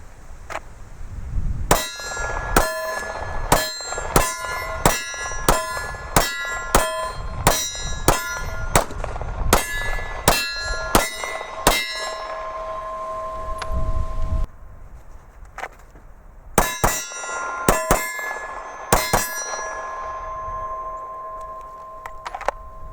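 Sharp metallic clangs of bullets striking a steel target ring out repeatedly, a steady series of hits with bright lingering tones, a pause, then another cluster of rings.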